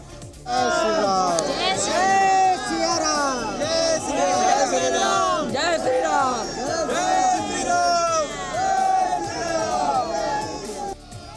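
A large crowd of devotees at the Ayodhya Ram Mandir, a continuous loud hubbub of many voices with shouts and chanting rising and falling throughout.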